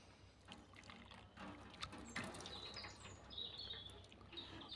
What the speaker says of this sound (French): je rince avec de l'eau chaude